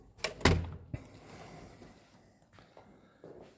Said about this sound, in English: And here's the front door.